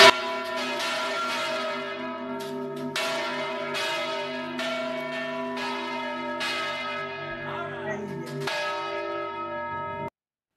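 A church bell rings in steady, repeated strokes, each ringing out with long, resonant overtones that overlap and hang in the air, loud and clear with no talking.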